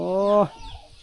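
A chicken in a rural village gives a single loud, close, drawn-out cluck that ends abruptly, followed by faint background noise.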